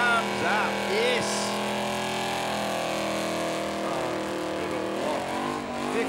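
Burnout car engine revving at a Summernats burnout elimination, a loud continuous roar with harmonic rises and falls, blended with a crowd din and an announcer talking over it.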